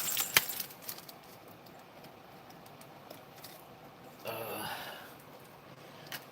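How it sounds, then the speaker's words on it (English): A small bell on a cat's collar jingles faintly in the background of a quiet indoor room, with brief light tinkles and soft rustling scattered through. "That bell noise that you hear in the background is my cat."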